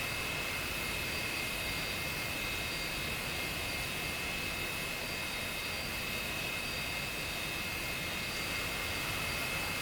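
An F-86F jet engine runs at idle in the DCS flight simulator, a steady, even whine and roar with a high tonal hum, constant and unbroken throughout.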